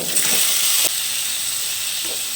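Chopped tomatoes hit hot oil with cumin seeds in a pan for a spicy cabbage thogayal, a loud burst of sizzling hiss that eases after a moment into a steady, softer frying hiss.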